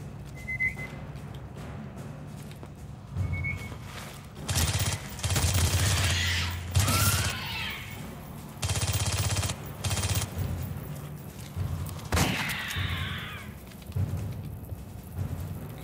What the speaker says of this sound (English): My god, an actual submachine gun.